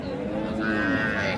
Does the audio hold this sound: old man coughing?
no